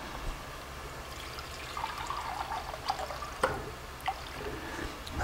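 Water pours and trickles into a cooking pot while Ghormeh Sabzi is being made, a soft steady splashing with a few sharper drips and plops, fairly quiet and with no talking.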